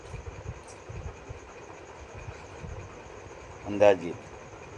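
A steady low rumble of a running train is heard from inside the carriage, continuous and fairly quiet, with a brief burst of a voice speaking near the end.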